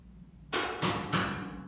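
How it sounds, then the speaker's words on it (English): A commercial Alto-Shaam oven beeps three times in a slow, even sequence as its door is eased open, each tone loud, broadband and lingering before the next. "It's still beeping"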